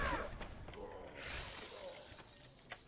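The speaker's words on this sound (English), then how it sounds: "Still loving the shattering cold effect from the cold pact." A crisp, icy shattering burst from a cold pact spell in the DDO video game, loud over a busy game scene, then fading into a softer crackling tail.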